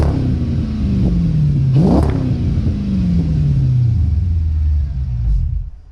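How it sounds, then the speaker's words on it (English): A 2006 Chrysler 300C SRT8 revs through a stainless steel MagnaFlow exhaust, close and loud. One sharp blip climbs and drops, then a long deep rumble slowly falls back to idle before cutting off. "So this exhaust is quite a couple years old."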